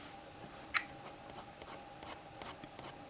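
Soft, steady scratching of a colored pencil moving across paper, with repeated faint strokes and one sharper tap, quiet and close with no talking.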